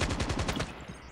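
Rapid automatic gunfire from the POW-57 in the mobile shooter Call of Duty Mobile, a loud, fast rattling burst lasting about half a second before dropping to quieter background game noise.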